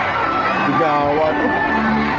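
Crowd noise at a political rally in Sarangani Province, a dense, loud wash of raised voices and shouting close by, with individual voices calling out within the din.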